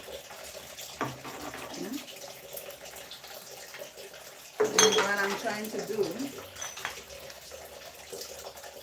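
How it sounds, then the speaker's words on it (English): Tap water running and splashing while spice jars are washed at a sink, with light clinks of glass and lids, a steady stream that swells midway, and a person talking over it. "when I wash them on top, the water doesn't spill inside"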